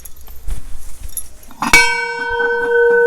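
A large temple bell is struck once with a bright metallic clang that rings on in a long, sustained shimmer, after a few soft knocks and shuffles.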